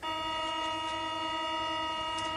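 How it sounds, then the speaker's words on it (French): A steady, sustained horn-like tone with stacked harmonics holds without a break, like a metro train's warning signal, with faint rumble underneath. "C'est un bruit de métro."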